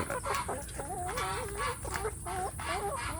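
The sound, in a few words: free-range village chicks clucking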